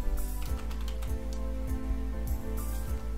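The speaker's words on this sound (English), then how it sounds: "Press enter on the keyboard." Typing on a computer keyboard, a quick irregular run of light key clicks, close and fairly quiet, with no talk.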